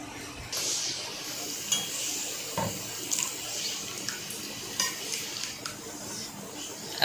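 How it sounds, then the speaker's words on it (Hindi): A spoon stirs two-colour apple pudding of milk, sugar and cornflour cooking in pans, with soft scraping and occasional metal clinks against the pan sides at close range, no talking. "अब दोनों पुडिंग जो दो कलर की पुडिंग है दोनों में जल्दी जल्दी चम्मच चलाएंगे"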